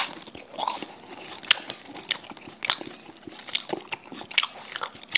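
Crispy fried Chaoshan shrimp balls are bitten and chewed up close, giving repeated sharp crunches and crackles in an uneven rhythm over about five seconds, with no talking.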